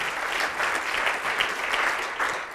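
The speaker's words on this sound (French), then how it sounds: "vous allez vous applaudir d'abord" Participants at a workshop on emotional intelligence in business applaud themselves, a full, loud, continuous wash of clapping from a group nearby.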